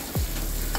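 Curry leaves, small sambar onions and tomato sizzle in an oil tempering, giving a short burst of steady frying hiss with a low thump near the start.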